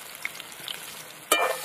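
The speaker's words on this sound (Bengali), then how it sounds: "পেঁয়াজটা কিন্তু ভালো করে একদম লাল করে ভেজে নিতে হবে।" Chopped onion fries in hot oil with black cumin seeds, a steady low sizzle with faint clinks, then a louder burst of crackling near the end.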